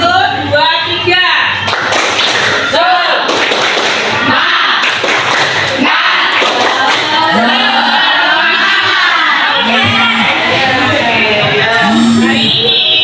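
Schoolchildren in a classroom perform a spirit clapping chant, with bursts of rhythmic group clapping and thumps mixed under loud sung and chanted voices throughout.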